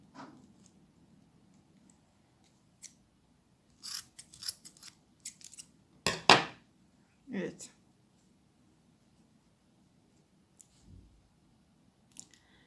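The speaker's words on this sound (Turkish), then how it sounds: "Şimdi iki yanından kesiyorum." Scissors snipping string for a handmade ornament: a few sharp, close snips clustered midway, with quiet rustling before and after and a voice speaking in the background.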